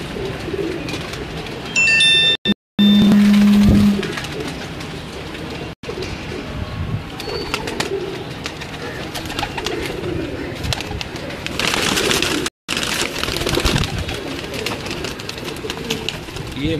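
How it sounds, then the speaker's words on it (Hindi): A few pairs of Sialkoti pigeons coo in a rooftop loft, with low continuous cooing, scattered chirps and brief interruptions, plus a loud rumbling passage later on. "ये जी मेरे सियालकोटियाँ चंद जोड़े हैं"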